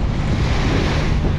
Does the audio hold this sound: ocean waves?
yes